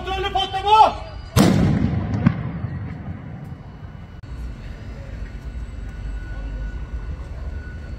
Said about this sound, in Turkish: Kontrollü patlama!